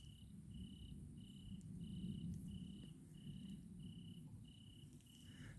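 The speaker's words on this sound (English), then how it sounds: "Even the cricket still." A cricket chirps at night at a woodland camp, its faint, high, evenly spaced pulses repeating steadily over a quiet low background rumble.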